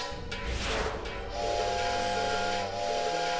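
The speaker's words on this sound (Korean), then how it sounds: "덜그덕 소리가 너무나 거슬리는 주전자" A noisy, clattering kettle lets out a shrill, sustained steam whistle over a hissing boil, the tone wavering slightly as the steam pushes through.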